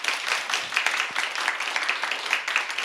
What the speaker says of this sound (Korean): 우리 교수님께도 박수 한번 쳐드리면 좋을 것 같습니다